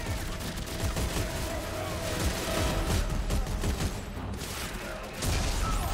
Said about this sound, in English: Oh, I got blown up by a grenade.